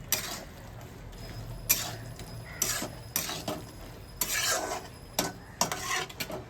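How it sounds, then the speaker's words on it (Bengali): Half-boiled potatoes and bori simmering in water in a covered pot, stirred after the lid is lifted: intermittent scraping and clinking strokes of a spoon against the pot at a moderate level, with no talking. "আর একটু নাড়িয়ে দিচ্ছি ঢাকাটা খুলে।"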